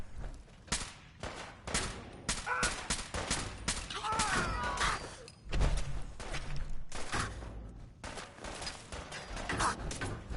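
Gunfire in the video game Fallout on hard mode comes as dense, loud bursts of automatic and single shots with crashing impacts, near-continuous over ten seconds, with brief voices shouting between volleys.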